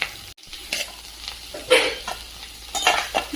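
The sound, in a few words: stirring green chillies frying in a pan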